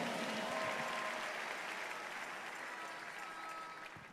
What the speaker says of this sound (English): Let's make that hand clap bigger and better for Jesus.